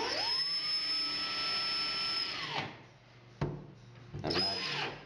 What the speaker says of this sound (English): Another step, of course, to tighten the bolts